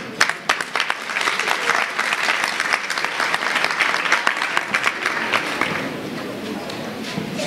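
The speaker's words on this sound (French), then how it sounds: "je demanderai à mes collègues de Kébémer de me réserver une salve d'applaudissements" Audience applause at a teachers' union excellence-day ceremony in Kébémer, Senegal: dense, sustained clapping from a crowd for about six seconds, then thinning out toward the end.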